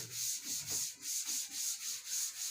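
A duster or eraser rubs writing off a classroom board in steady back-and-forth strokes, about ten rhythmic scrubbing passes, close and fairly loud with no talking.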